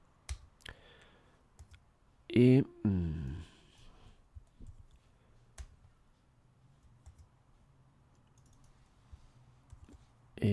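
A computer keyboard shortcut is pressed while refactoring code in an editor, producing sparse, isolated key clicks close up with long quiet gaps and a brief burst of voice near the start.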